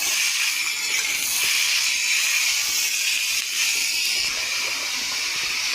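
Snake gourd hisses and sizzles steadily in a hot oiled pan with cumin, chopped onion and slit green chillies, a continuous close frying sound with no talking.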